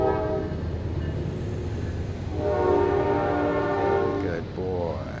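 Train rolling past nearby with a steady heavy rumble and a sustained horn blast building in the second half, loud and continuous throughout.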